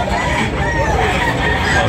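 A rooster crows at a chicken market in Tabunok, Talisay, Cebu, a drawn-out call rising over steady crowd noise and other birds, with people talking nearby.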